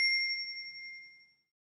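A single bright notification bell ding rings out alone, clear and close, then fades away over about a second and a half.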